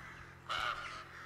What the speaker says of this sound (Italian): Corvo maledetto.